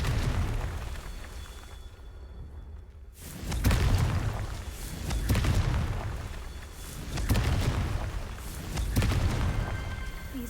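Confringo blasting spell going off in a Harry Potter video game, a series of deep booming blasts with swelling rumbles that repeat every couple of seconds after a brief hush, loud and close.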